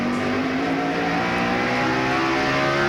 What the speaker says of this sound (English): you can hear that engine just screaming as it accelerates down the straightaway.